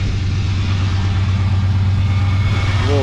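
A truck with a 400 small block V8, Jensen auto exhaust and a manual choke idles loudly and close, a steady deep rumble throughout.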